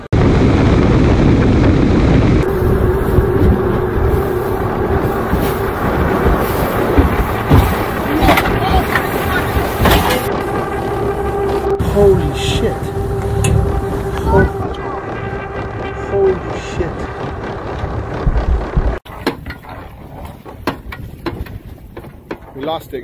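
A boat engine runs loud and steady at a dock during a Memorial Weekend outing in Blackpoint, Miami, with wind buffeting the microphone, then the motor drops away and cuts out near the end, leaving quieter water and ambient noise.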